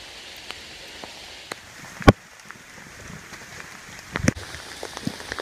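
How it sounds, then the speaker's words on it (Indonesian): Heavy rain drums steadily on a mountain shelter hall on Gunung Gede Pangrango, a close, even patter broken by a few sharp drips and taps, with no voices. "Oke, hujannya semakin besar."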